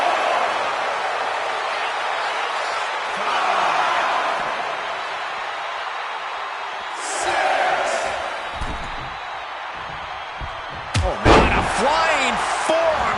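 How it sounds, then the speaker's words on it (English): A flying forearm smash lands in the WWE 2K25 wrestling video game, one loud sharp slam near the end that cuts through a roaring arena crowd and ongoing commentary. "Flying forearm smash."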